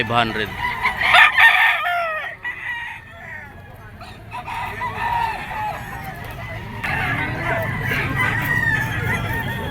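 A two-year-old yellow-legged golden boy sweater gamefowl rooster at a scratch pen full of standing sellers crows loudly, several long crows overlapping with other roosters crowing and clucking around it in a busy yard.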